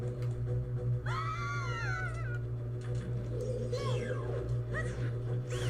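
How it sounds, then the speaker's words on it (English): A character's shrill scream of terror in Ocarina of Time 3D, a wavering, cat-like wail rising and bending in pitch, followed by shorter cries over a steady game hum. "Her scream of terror"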